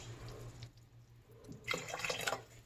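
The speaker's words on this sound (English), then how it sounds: "I'm going to add in just a little water." A little water poured from a cup into a pot of heated creamy broccoli, rice, chicken and cheese soup, a short splashing trickle rising near the end after quiet kitchen hum.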